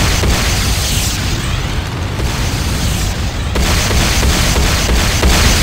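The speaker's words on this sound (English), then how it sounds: "GDI Tiberium Refinery destroyed." A GDI Tiberium Refinery blows up in the game Renegade, giving a loud, sustained roaring blast with a dense rumbling low end that barely lets up across the whole stretch.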